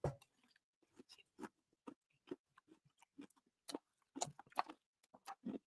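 Crunchy vanilla latte flavored treat chewed close up, a series of sharp, irregular crunching bites and chews in a quiet room with no talk.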